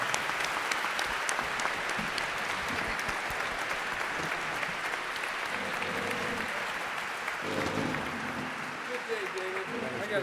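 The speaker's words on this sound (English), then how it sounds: "let's give a hand to the panel here" A sustained round of applause from an audience at a university political forum on midterm elections, clapping dense and close throughout as a voice starts talking over it near the end.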